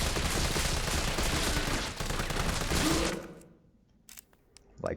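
Rapid automatic gunfire in Resident Evil 3 Remake, a dense burst of shots emptying a magazine for about three seconds, then cutting off to near quiet with a few sharp clicks and small clatters.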